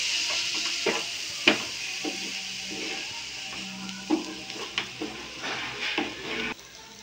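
Semolina pulao being stirred in a pan with a little water, a soft frying sizzle under repeated scraping strokes and light knocks of the spoon against the pan.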